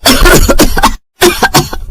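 A loud, close old woman coughs in two harsh bursts separated by a brief silence on a cold night.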